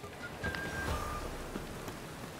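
Rain in the video game The Witcher, a soft steady patter of drops on surfaces with a few faint tones in the background, quiet and without speech.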